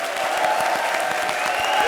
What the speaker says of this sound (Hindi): ताली ठोको